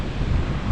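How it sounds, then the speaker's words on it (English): Ocean waves surge at Back Beach in Vung Tau, Vietnam, a steady low rumbling wash of surf mixed with wind buffeting the microphone, close and continuous with no voices. "The waves are crazy."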